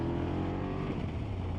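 A 2024 BMW F800 GS motorcycle pulls in third gear at about 3,000 RPM, a steady, close engine drone with a firm, even tone and no talk over it.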